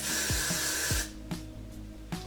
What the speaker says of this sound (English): I'm gonna spray it in sections